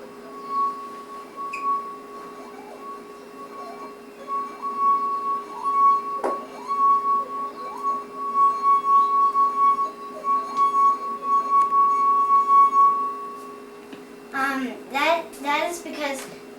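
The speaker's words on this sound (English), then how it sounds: "the wine glass is vibrating, but the more water there is in it, the lower the pitch" A wine glass partly filled with water rings with a steady, sustained singing tone for most of the stretch, clear and close, before a voice and other voices break in near the end.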